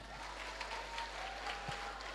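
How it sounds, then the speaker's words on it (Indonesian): Students applaud at a character-building workshop in a school or hall, a steady, moderately distant patter of many hands filling the whole short stretch without a break. "Tepuk tangan."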